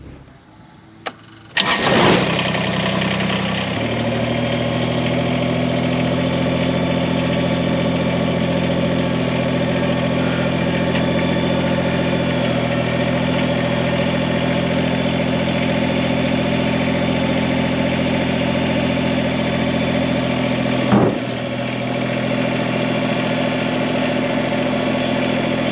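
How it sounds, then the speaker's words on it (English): A Kubota BX compact tractor engine starts up and settles into a steady, close, loud idle with a constant mechanical hum, briefly bumped once near the end. "A mighty little tractor in a small package."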